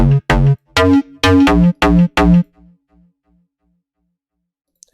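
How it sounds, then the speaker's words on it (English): A tweaked synth bass in FL Studio plays a short sequence of six punchy, harmonically rich notes, loud and up front, then decays into silence. "I tweak the bass a little bit so it sounds like this now."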